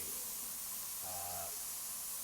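Steady broad hiss of spray paint from a can in Spray Paint Simulator, coating a car, continuous and even across the clip with a faint tonal blip midway.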